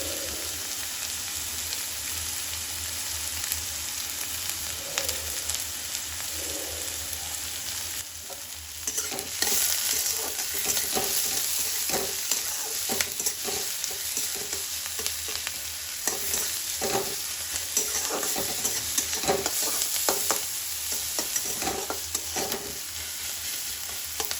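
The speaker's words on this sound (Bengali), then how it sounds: "পেঁয়াজটা এরকম দেখুন কত সুন্দর ভাজা হয়ে গেছে একটু লালচে হয়ে এসছে" Onions fry in a pan seasoned with salt, a low steady sizzle broken by frequent scraping strokes of a spatula as they are stirred, close and fairly quiet with no talking.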